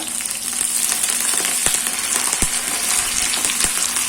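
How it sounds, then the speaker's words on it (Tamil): Mustard seeds, onion and curry leaves frying in hot oil for Salem-style tomato kuzhambu, a steady close sizzle with occasional sharp pops and crackles throughout. "இப்போ கடுகு பொரியுது"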